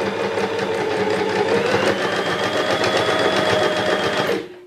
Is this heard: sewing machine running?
yes